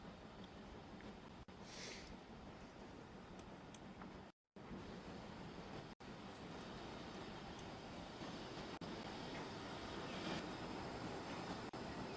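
Steady rumble of a train rolling along in the railway game Transport Fever 2, a continuous broadband roar with brief dropouts, heard alone without talk.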